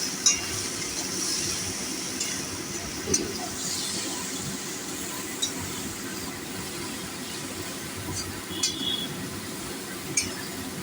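Soft steady sizzle of eggplant and potato frying in a pan, with a few light clinks of a utensil against the pot scattered through.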